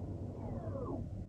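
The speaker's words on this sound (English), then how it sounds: "That's a different noise when you put it into park." Tesla Model 3 Performance shifting into park, giving a soft descending electronic tone that sweeps downward over about a second above a steady low hum inside the car, ending abruptly.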